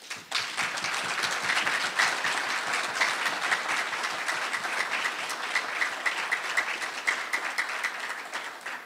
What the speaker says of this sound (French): je vous demande chaudement d'applaudir